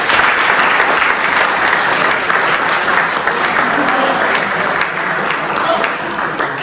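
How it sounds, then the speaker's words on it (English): Sustained audience applause at a Crude Tier 1 awards night, dense steady clapping from a large crowd that fills the room without pause, fading slightly toward the end. "We'll give them a round of applause quick."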